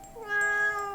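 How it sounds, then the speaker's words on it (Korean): A cat cries outside a closed window, one faint, drawn-out wavering meow that sounds like a baby's cry, heard alone and at a distance. "아기의 울음소리 같기도 하고 고양이의 울음소리 같기도 하다."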